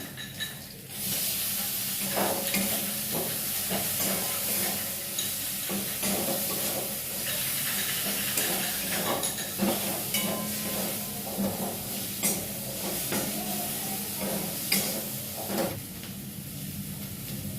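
Chopped tomatoes sizzle and hiss steadily in a hot pan, broken by irregular clinks and scrapes of stirring.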